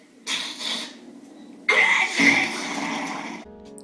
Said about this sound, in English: Coughing, sniffling, you're sick.